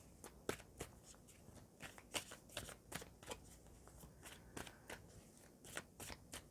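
Animal spirit cards are shuffled by hand close up, a quiet run of quick papery riffles and slaps in uneven bursts with no talk over them.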